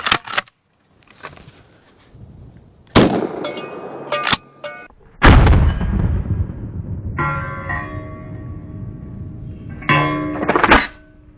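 A 28-inch Benelli Nova pump shotgun chambered for 3.5-inch shells fires at steel targets outdoors, giving several sharp, loud reports, each followed by metallic ringing clangs and decaying echo.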